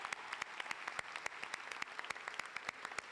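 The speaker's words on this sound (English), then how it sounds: "Let's go ahead and give a big round of applause for your families that were here to support you." Applause at a high school graduation ceremony for the High School for Law and Public Service, heard as fairly faint, sparse clapping with distinct individual claps in an uneven rhythm, no voices on top.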